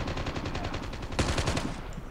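Rapid automatic gunfire in Call of Duty Mobile, a fast steady string of shots at moderate volume, with a denser burst near the end and no talk over it.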